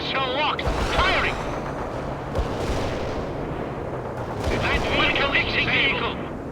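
Missile launches and battle noise in the World in Conflict video game, heavy rumbling blasts and gunfire layered under loud radio-style unit voice callouts, dense and continuous.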